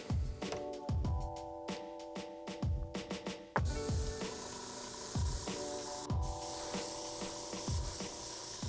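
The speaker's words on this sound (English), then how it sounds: "I'm only gonna airbrush a couple of coats." Airbrush spraying brown and gray paint in light coats onto the canvas panel of a worn Nike SB Dunk sneaker, heard as close bursts of hissing spray separated by short pauses, then a longer continuous hiss, with no talking.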